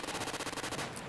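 Rapid automatic gunfire from a weapon in the video game Final Stand 2, a steady burst of closely spaced loud shots lasting about a second before tapering off.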